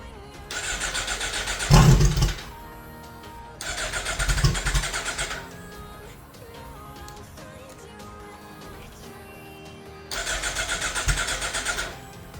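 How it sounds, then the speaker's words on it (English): A 2018 Suzuki GSX-R1000R sportbike being started: three loud bursts of engine cranking and firing with broadband roar, separated by quieter gaps of background noise, close to the listener. "So now that I have the battery connected, it's time to see if this bike starts."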